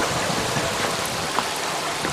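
Water rushes steadily through a gold sluice during a wet wash of dry-wash tailings, a dense, even splashing hiss that runs close and constant throughout.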